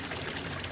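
Water pours steadily down a small garden waterfall, a brief, soft, continuous splashing trickle heard alone.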